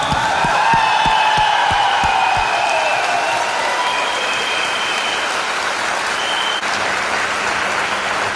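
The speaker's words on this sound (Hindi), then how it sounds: "तो आप सब लोगों के लिए एक जोरदार ताली।" Loud, sustained applause from a large audience at a company leadership program, a few sharp claps standing out early before settling into a dense, even wash with some cheering mixed in.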